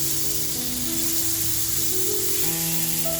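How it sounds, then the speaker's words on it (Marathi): Pomfret fish pieces frying in hot oil produce a loud, steady sizzling hiss, with faint sustained tones running underneath and no speech. "हलव्याचे जे पीस आहेत ते असे छान फ्राय करून घ्यायचे आपल्याला"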